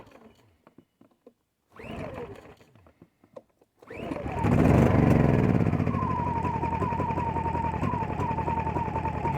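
A Champion 2000 watt dual fuel generator is pulled over twice, then catches and settles into a loud, steady running drone close by, no talking.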